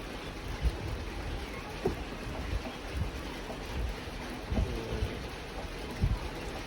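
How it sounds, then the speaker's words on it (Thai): Steady rain falls outdoors as a soft continuous hiss, with scattered low thumps and drips rising above it now and then. "พี่น้องจ๋าฝนตก"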